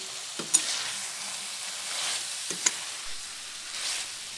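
Pointed gourd and potato pieces frying in a pan, giving a soft, steady sizzle with a couple of brief clinks of a utensil against the pan, close and fairly quiet.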